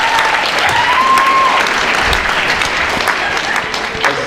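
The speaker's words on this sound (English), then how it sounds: "Let's give a round of applause to our principal for hosting this event" Strong sustained applause from an audience at a school Black History Month event, many hands clapping loudly and evenly throughout, with a faint whistle-like tone early on.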